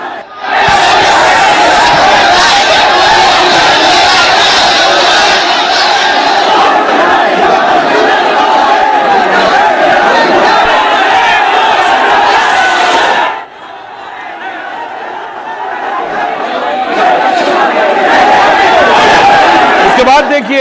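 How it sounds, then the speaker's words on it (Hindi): A large protest crowd in Bareilly, Uttar Pradesh, with police present, chants slogans loudly and continuously in many voices, breaking briefly midway before the massed shouting swells again. "भीड़ लगातार नारेबाजी कर रही थी"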